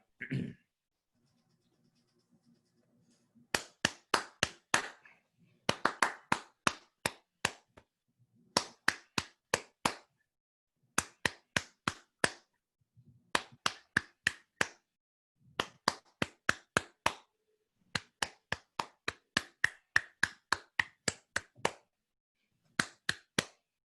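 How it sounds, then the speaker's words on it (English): A single pair of hands claps out the melody of Old MacDonald, short bursts of crisp close claps grouped in rhythmic phrases with brief pauses between them, after a quick throat-clearing at the start. "I'm just going to clap the melody"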